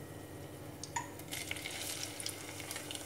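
Torn vegetarian ribs dropped into hot oil in a pan fry with a steady, fairly quiet sizzle and scattered crackles, a few sharper pops and a utensil clink near the start, with no talking.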